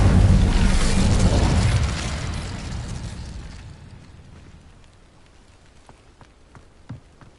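An Incendio fire spell cast in Hogwarts Legacy, heard as a loud roaring, crackling burst of flame that slowly fades away and leaves a few faint clicks and small impacts.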